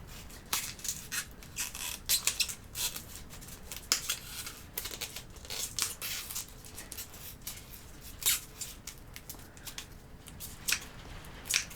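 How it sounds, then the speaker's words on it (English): Scissors snip repeatedly at close range, quick irregular cuts with small rustles of material in between, continuing throughout. "get a pair of scissors, cut around."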